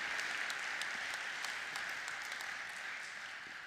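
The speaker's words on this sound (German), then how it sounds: "Wir genießen kurz den Applaus." Conference audience at a Starface congress in Rust applauding, a steady wash of many hands clapping that fades slightly toward the end, with no voices over it.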